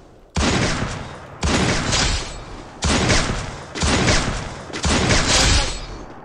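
An M82B sniper rifle fires in a battle royale video game, with five heavy, booming shots evenly spaced about a second apart. Each shot is loud and close, with a short decaying tail.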